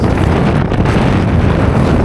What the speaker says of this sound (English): It's picked up now, probably be over 20 knots in some of these gusts.